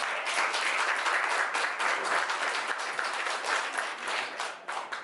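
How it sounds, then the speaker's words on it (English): At a shopping mall launch event in Las Vegas, a crowd claps for a woman being honored, a bright, fast patter of many hands holding steady and then thinning slightly toward the end. "give her a round of applause for that"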